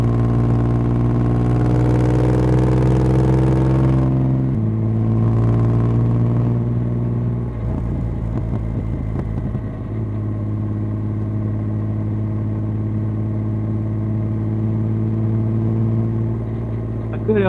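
A deep, rumbling Rocket 3 Storm motorcycle with a Werkes exhaust rising and falling through different revs and gear changes, loud and close, running continuously throughout.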